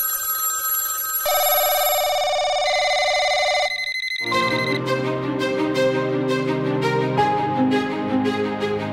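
A phone rings with steady electronic tones that shift pitch partway through, then give way to a busier run of bright, repeating ringtone notes, loud and close with no talking.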